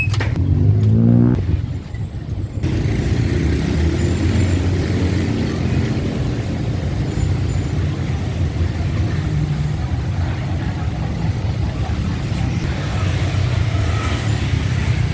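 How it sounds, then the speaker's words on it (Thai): Heavy road traffic in Pratunam, Bangkok: a loud, continuous roar of cars and engines close by, with a vehicle accelerating past early on, and no voices. "รถจะค่อนข้างติดเยอะอยู่เลยนะครับ"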